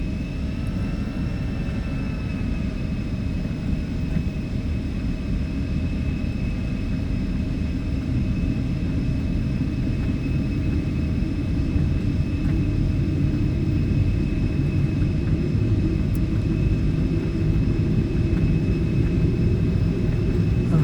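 X-Crafts E-Jet jet engines spooling up on a takeoff roll in the X-Plane 12 flight simulator, a loud steady roar with a low rumble that grows slightly over twenty seconds, alongside a faint constant whine.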